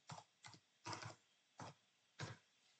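Five separate keystroke bursts on a computer keyboard while an IP address is entered to connect to a Siemens IOT2050 module, quiet and close, the taps spaced unevenly with short pauses between them.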